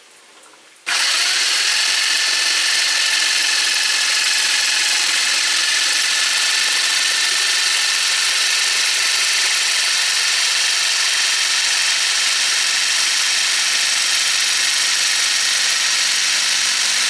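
A power tool whines steadily and loudly for the whole stretch after a sudden start, cutting material for a homemade 12-inch electronic drum tom pad, with no talking.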